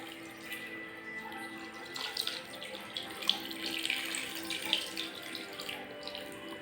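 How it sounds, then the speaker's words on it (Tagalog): Soy sauce pours into pork adobo as a soft, close, steady trickle with a few splashy peaks, quiet and continuous, with no talk. "lagyan po natin siya ng toyo"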